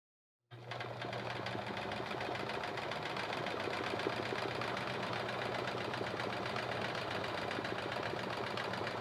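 Sewing machine doing free motion quilting with big stitches, starting after a short silence, then running as a steady, even mechanical whir throughout.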